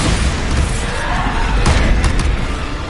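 Bombarda spell explosions in the video game Hogwarts Legacy, a dense, continuous roar of blasts and crashing debris with a few sharper bursts near the middle, loud throughout.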